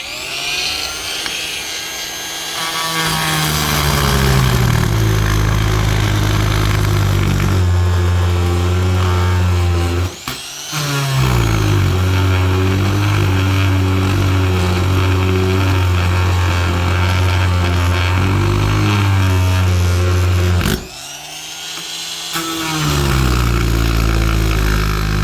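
An oscillating multi-tool cuts through a clamped piece of wood with a loud, steady high-pitched buzz that runs continuously, breaks off briefly twice, then resumes at full strength.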